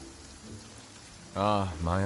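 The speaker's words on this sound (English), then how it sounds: "This heavy rain must be quite an inconvenience for you." Heavy rain in the Genshin Impact video game falls as a steady, moderate hiss, and a voice speaks over it near the end.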